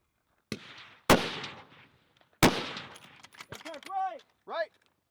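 Precision rifle shots ring out at a match stage: three sharp, loud reports at irregular intervals, each followed by a short echoing decay, with faint voices and metallic clinks near the end.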